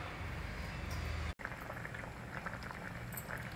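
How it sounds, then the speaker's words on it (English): Brown rice upma with tuvar dal bubbling in a pot, a faint, steady soft crackle and popping of boiling liquid with no talking. "It is boiling well now."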